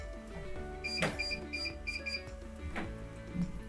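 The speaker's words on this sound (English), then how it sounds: "it's immediately reacted and obviously gone into alarm mode" A security NVR sounds its alarm after detecting human motion, giving a run of short electronic beeps and chimes in quick, uneven bursts, fairly faint and heard alone.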